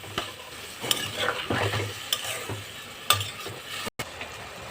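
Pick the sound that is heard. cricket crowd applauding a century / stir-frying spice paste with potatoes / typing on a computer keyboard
stir-frying spice paste with potatoes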